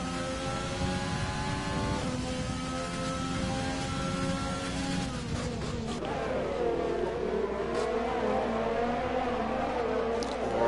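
Formula 1 race cars lapping the Austrian Grand Prix circuit in a racing video game, a steady engine whine with shifting pitch and gear changes, continuous and fairly loud.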